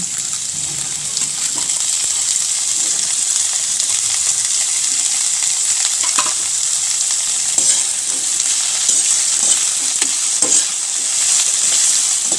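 Papaya and kangkong vegetables go into a pot of simmering vegetable soup, with a loud, continuous bubbling hiss and a few soft splashes and knocks.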